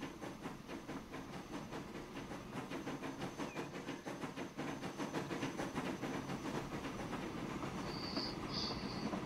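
Freight train running in the Transport Fever video game, a quiet, continuous rolling rumble with steady rhythmic clickety-clack from the wheels and a faint hiss, brief high squeals near the end, no talk.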